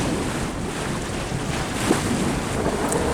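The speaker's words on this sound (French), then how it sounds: "Et il y a énormément de vent, donc 25 nœuds à 30 nœuds de vent du sud, du désert." Strong southerly wind of 25 to 30 knots blowing across a boat at anchor off the north of Fuerteventura in the Canary Islands, a loud, steady roar and buffeting on the microphone with water noise beneath.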